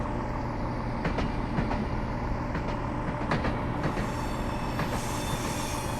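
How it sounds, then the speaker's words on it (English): A train in Train Simulator 2016 coasts on rails down a slight gradient between Great Yarmouth and Norwich via Acle, giving a steady loud rolling rumble with occasional wheel squeals and clicks, no talk. "I'm now just allowing the train to coast for a moment"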